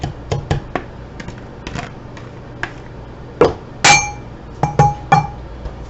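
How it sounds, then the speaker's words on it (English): Macaroni goes into a glass casserole dish for pulled pork mac and cheese. Scattered light clinks and ticks come first, then a few louder, ringing glassy clinks near the end, all close and with no talking. "the next thing we do is we add in the macaroni into the casserole dish."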